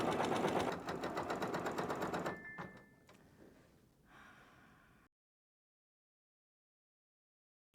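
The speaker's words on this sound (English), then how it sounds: "press this bright green flashing button, and it should begin embroidering for you." Makerspace embroidery machine starting to stitch, a dense rapid mechanical chatter for about two seconds, then slowing and stopping with some lighter whirring before it falls silent.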